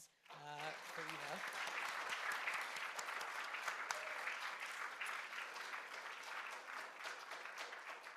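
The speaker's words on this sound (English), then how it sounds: "if we can have a round of applause for Eva." Warm audience applause at a Holocaust Remembrance Day gathering, rising after a brief spoken phrase and holding steady and full for several seconds, heard at some distance.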